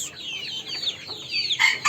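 Month-old native chicken chicks cheep and cluck in a cluster of high, rapid chirps, close and fairly loud, with no talking.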